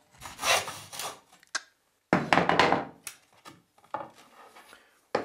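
A hand saw cuts through a cane tube that is turned while being cut, giving bursts of close, raspy sawing strokes separated by short gaps and a few wooden knocks.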